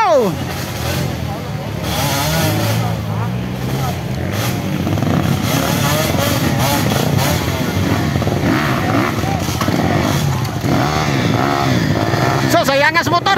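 Enduro motorcycle engines revving and whining hard during a trail race competition in Manolo Fortich, Bukidnon, a loud continuous roar with rising and falling pitch sweeps, people talking over it.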